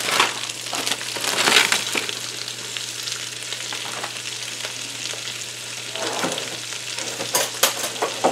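Peppers and onions frying in a pan outdoors on a back step, loud crackling sizzle with scraping stirs and clinks, over a low steady hum and with no talking.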